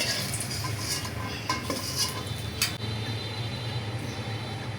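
A utensil scrapes and clinks against a pan as fried onions are lifted out into a bowl, with light metallic taps and a faint sizzle beneath, close and moderately loud.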